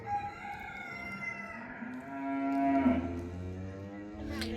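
A cow moos near horses and bulls on a farm, a long, low, drawn-out call that rises and falls over a steady outdoor background, with no talking.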